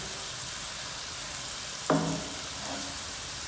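Locally produced onion lands in a hot pan and starts to sauté, with a sudden sizzle and clatter partway through and a steady hiss continuing close by.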